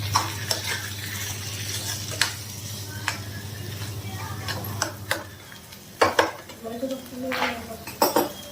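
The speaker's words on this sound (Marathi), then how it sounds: "तर आता हे पुन्हा सर्व एकत्र करून घेते" Spoon scraping and clinking against a pan while potato chutney is stirred together, with irregular metallic taps and knocks over a steady low kitchen hum, some clatter louder near the end.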